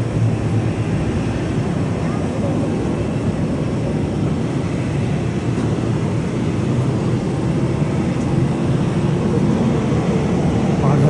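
An airliner lands at Chubu Centrair Airport, heard from the sky deck as a steady, broad engine roar at a distance, with voices murmuring nearby.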